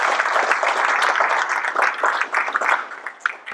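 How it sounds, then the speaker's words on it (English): Audience at a mayor's budget forum claps for city department directors, a fairly close, lively round of applause that stays dense and then thins out and tapers toward the end. "let's give them a round of applause for being with us today"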